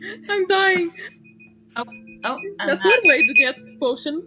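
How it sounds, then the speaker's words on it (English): An alarm rings, a steady tone repeating in short bursts under and between talk during a video game session. "that is my alarm to say that the recording should end"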